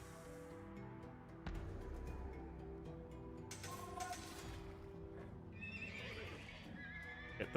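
Horses neigh and whinny in the strategy game Chronicles: Alexander the Great, a few calls rising over a steady bed of game music with faint hoof clip-clop mixed in.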